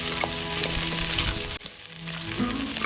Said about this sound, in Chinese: 排骨这样炒一下，炖出来的汤又香又白。